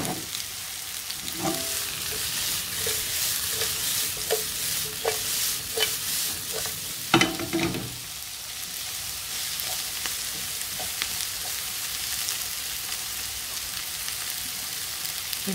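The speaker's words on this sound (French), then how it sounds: "je vais mettre mes oignons à caraméliser." Onions caramelizing in hot oil for homemade hamburgers give a steady, close sizzle, broken by occasional utensil taps and stirring scrapes, with a louder clatter near the middle; no one speaks.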